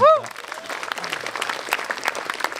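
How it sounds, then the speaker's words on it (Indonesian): Audience applause at a stand-up comedy show, a loud dense burst of clapping from a crowd close by that keeps going for the whole moment, with no one talking over it. "Tepuk tangan buat Bintang"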